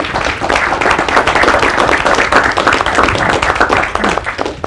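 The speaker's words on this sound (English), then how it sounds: "please give a round of applause for Alderman Waguespack" Loud, close applause from a seminar audience welcoming a Chicago alderman, brisk hand clapping from a modest crowd lasting several seconds without speech.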